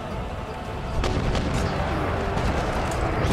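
Cannon fire pounds castle walls during a siege in the PC strategy game Empire: Total War with Darthmod, a dense, continuous rumble of booming shots and crackling impacts that grows louder after the first second.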